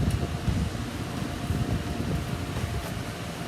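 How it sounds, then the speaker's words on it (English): Wind gusts outdoors next to a Masterbuilt pellet smoker, buffeting the microphone with steady low rumbling noise for the whole stretch. Nobody speaks. "The wind's having a little fun with us today"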